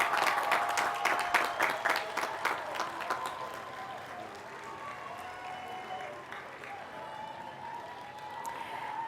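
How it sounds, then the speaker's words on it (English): Graduates at Cal Poly Pomona's Collins College commencement applaud their guests, with dense clapping from a large crowd that swells at first and then thins to a softer patter. "give them a well-deserved round of applause"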